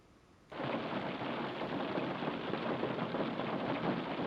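Rain begins abruptly in Farming Simulator 25, a steady hiss of heavy downpour with a low thunder rumble beneath, holding constant and moderately loud after a brief quiet start.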